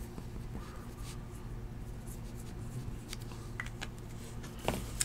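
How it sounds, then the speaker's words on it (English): Pen writing on a trading card during a football card case break: quiet, close scratching strokes that continue steadily for several seconds over a low background hum. "Let me write it all over the card so you can remember me."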